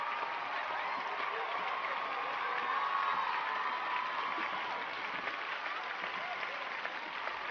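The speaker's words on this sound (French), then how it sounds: "On applaudit nos deux championnes." An audience applauds competition winners at a regional event, with a steady, distant wash of clapping and some crowd noise sustained throughout.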